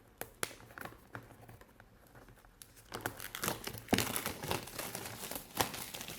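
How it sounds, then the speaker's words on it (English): Protective plastic film is peeled off a TP-Link N300 TL-WA855RE wifi extender box. Sparse taps and crinkles open the clip, then a louder, close, continuous crackling tear follows as the film comes away. "I'm going to peel this all off."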